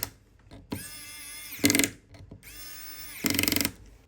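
A screwdriver drives three small crosshead screws back into a Samsung Galaxy S25 Ultra during a charge port repair, giving close, quiet ratcheting clicks and whirring bursts with short pauses between.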